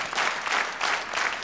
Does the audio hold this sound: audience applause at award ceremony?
yes